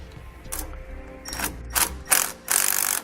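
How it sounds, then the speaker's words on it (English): A 9/16 socket ratchet snugging the four nuts on a tie rod bracket for a steering stabilizer, heard as several short clicking ratchet bursts of rising loudness with brief pauses between them. "we can go ahead and snug up the 4 nuts on our tie rod bracket. I'm going to be using a 9/16 socket."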